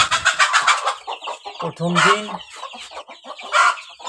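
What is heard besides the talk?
chicken hens clucking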